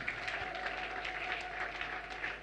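Church congregation applauding during a worship service, a steady, faint wash of many hands clapping that continues evenly throughout.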